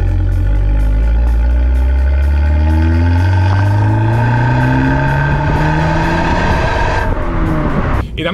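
An Abarth 595 compact sports car's engine and exhaust drone loudly and close, revving steadily upward in one long pull with a rough, burbling edge before the tone suddenly drops off near the end, no speech over it.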